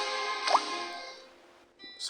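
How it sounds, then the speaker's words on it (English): A coin tossed into water in the game Sword Art Online makes a small, soft plop with a brief splash, ringing against a steady musical backdrop, then fades. "The coin made a small splash and quickly sank to the bottom."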